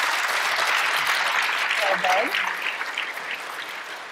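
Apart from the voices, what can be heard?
audience applause for panel members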